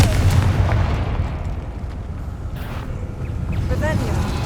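A Confringo blasting spell in Hogwarts Legacy goes off as a rumbling explosion with a crackling, noisy burst that lingers and fades, followed by faint magical chimes.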